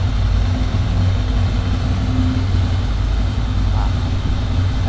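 A motorcycle engine idles smoothly and evenly, a steady low rumbling hum held close to the microphone with no voices over it.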